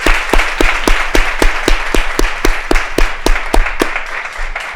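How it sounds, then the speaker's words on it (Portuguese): An audience at a motivational talk on emotional intelligence with Paulo Vieira claps loudly in steady unison rhythm, about fourteen sharp, evenly spaced claps filling the room with no voices over them. "Gente, uma salva de palmas."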